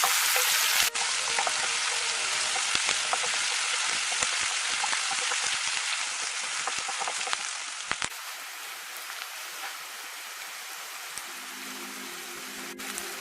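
Garlic, ginger and green chili sizzle steadily while being sautéed in a pan for a Kerala mushroom roast, a loud continuous frying hiss with occasional stirring clicks, easing slightly in the second half.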